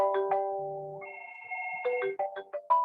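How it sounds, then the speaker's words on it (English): A mobile phone ringtone plays a bright electronic melody of sustained tones and quick stepping notes, clear and alone, with no talk over it. "Forgot to mute my phone."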